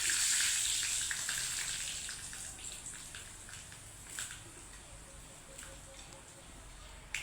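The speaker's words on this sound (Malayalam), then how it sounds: "കടുപൊട്ടുന്നുണ്ട് കേട്ടാ" Mustard seeds pop and sizzle in hot oil, a faint, steady frying hiss scattered with small crackles that gradually eases off, with a voice briefly audible.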